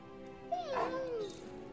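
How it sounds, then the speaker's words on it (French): A dog in the video game Marvel's Midnight Suns gives a short whimpering whine while being petted, a single rising-and-falling vocal sound, close and alone. "on va caresser le toutou"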